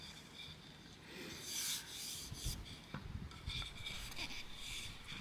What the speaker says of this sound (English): I start with a 120 grit on the timber and work my way through to about a 400.